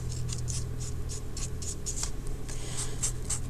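Marker or crayon scratching quick X strokes on paper in a children's art lesson, a rapid, even series of short scribbling rubs, close and fairly loud.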